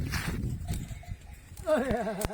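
Goats bleat nearby on a snowy day, sheltering inside a tent; a wavering, quavering cry near the end after a stretch of muffled rustling and low sounds.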